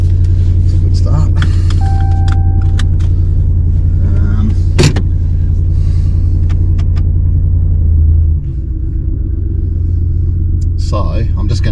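A car engine idles close by with a loud, steady low rumble, then settles slightly quieter near the end, with a few brief clicks and knocks and people talking over it.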